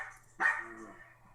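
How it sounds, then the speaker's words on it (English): A dog gives a single sharp bark from a short distance in an otherwise quiet indoor room, the bark ringing briefly before it fades. "Of course my dogs start barking just as we're about to start."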